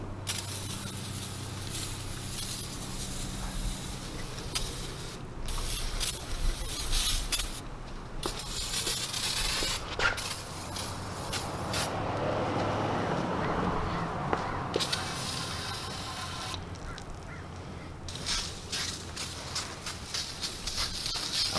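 Water sprays and splashes while a K24 engine short block is hosed down, an uneven hissing patter with the spray starting and stopping. Faint voices and handling noise sit underneath.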